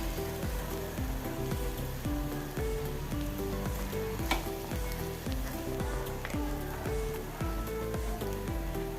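Papaya thoran being stirred in a hot pan, a steady moist sizzle with soft scraping strokes throughout over a repetitive low background, with no talking.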